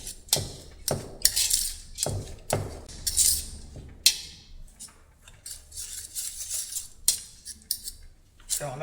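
Butter, nuts and cheese stirred together in a bowl, heard as a series of sharp utensil clinks and scrapes in uneven rhythm, with a voice in brief snatches between them.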